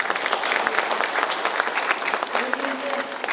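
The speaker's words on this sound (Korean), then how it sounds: "우리 박수 한번 보내주시죠" Dense applause from an audience of city officials at a signing ceremony, continuous crisp claps close and loud, with a brief voice underneath near the end.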